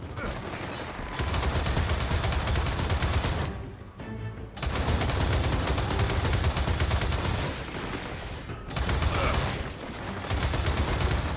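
Sustained bursts of automatic gunfire from weapons in the shooter game Gears of War 4, loud and dense, broken by a brief lull near the middle and another short gap later.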